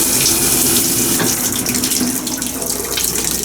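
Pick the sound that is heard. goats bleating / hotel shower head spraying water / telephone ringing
hotel shower head spraying water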